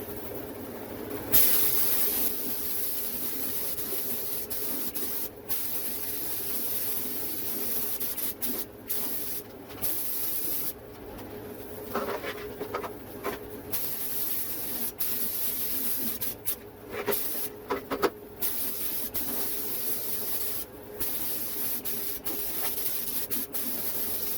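Spray gun applying a second, final coat of rust treatment paint inside a 2001 Chevrolet Silverado 2500 HD, a steady close hiss running throughout with brief pauses and bursts where the trigger releases.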